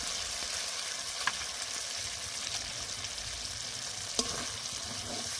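Mustard-poppy paste with tomato puree fries in oil for a pabda fish curry, a continuous dense sizzle heard close with a couple of soft spatula knocks and no voices.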